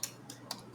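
Typing a Linux terminal command on a computer keyboard, heard as a few sparse, quiet keystroke clicks spaced well apart, with no talk.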